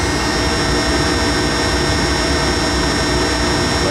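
A DCM IG 280 SD vertical spindle rotary surface grinder running at full speed, a loud, steady broadband roar with a high whine and no pauses.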